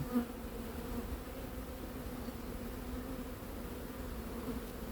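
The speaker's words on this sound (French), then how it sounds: "Toutes les abeilles sont dans la ruche." A honeybee swarm of some 35,000 to 40,000 bees, just hived in Ozoir-la-Ferrière or Montgeron, gives off a steady, dense buzzing drone that stays even and close throughout, with no talk.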